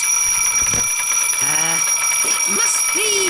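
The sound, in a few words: alarm clock ringing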